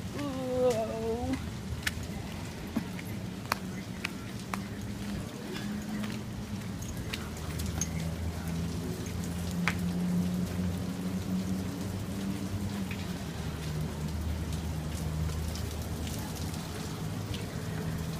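Outdoor rain falls in a steady, fairly faint hiss near a laundromat, with scattered drip ticks over a low hum, and a brief voice-like sound near the start.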